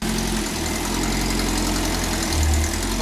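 The engine of a Simca 5 car runs steadily nearby, a continuous low idling drone with a slight swell near the end and no speech over it.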